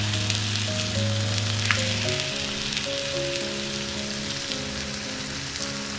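Zucchini and onion sautéing in a pan with salt, pepper and oregano until caramel brown, giving a steady close sizzle and frying crackle that runs continuously, with a sharp utensil click partway through and no talking.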